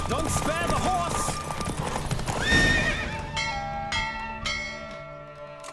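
Hoofbeats of a galloping horse in a race in The Witcher 3, clip-clopping under a neigh, with bell tones ringing out toward the end and a voice speaking over the start.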